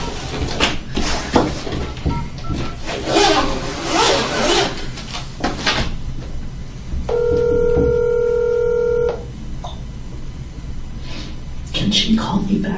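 Phone keypad tones beeping as a number is dialed, followed by a steady two-second tone, close and clear, with people talking before and after.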